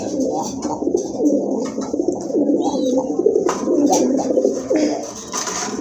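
Pigeons at a pigeon market coo loudly and continuously up close, their low throaty calls overlapping in a dense, rolling chorus with a few brief higher chirps.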